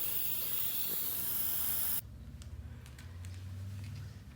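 A torch roars with a loud steady hiss while heating stuck wheel bearing races on an old trailer axle, then cuts off abruptly, leaving quieter clinks and low rumbling.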